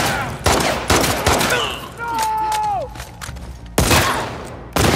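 Gunfire in the video game The Last of Us Part II: several sharp shots in quick bursts and a later pair of loud blasts, mixed with game sounds and a player talking.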